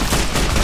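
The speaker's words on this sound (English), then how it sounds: "Why are they shooting?" Dense, continuous gunfire in a Fallout New Vegas battle, loud and close with overlapping shots throughout a brief burst.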